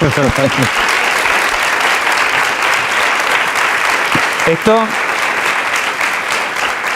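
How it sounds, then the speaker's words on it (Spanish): Sustained audience applause fills the room at a heart-health talk by a cardiologist, steady and dense throughout, with brief speech breaking in near the start and again around the middle. "Vamos, el aplauso."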